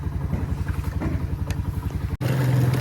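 A motorcycle engine putters close by with a rapid, rhythmic thumping idle, briefly dipping before revving slightly louder.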